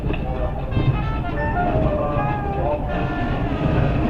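Disneyland Railroad train at New Orleans Square station, a steady rumble with squealing, grinding wheel and brake tones, heard up close while a person talks over it.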